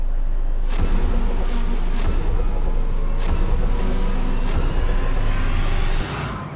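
Race cars rumble together at the start of the 6 Hours of Daytona in a racing game, a loud dense engine roar dotted with sharp transient bangs before it thins out near the end.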